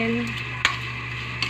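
Shrimp sizzle as they fry in a pan, with a steady hiss underneath and a sharp scrape of stirring about midway, then a lighter second scrape near the end.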